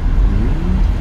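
A car engine revs as the accelerator is pressed during a driving-test road lesson, a steady low mid-pitched drone with a slight rise in pitch, close and continuous for about a second.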